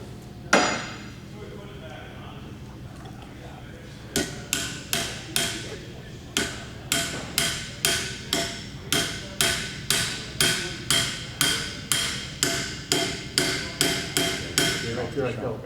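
Repeated hammer blows on a punch or chisel driving a nut tight, one opening strike and then a steady series of sharp metallic impacts roughly every half second, close and loud with no talk.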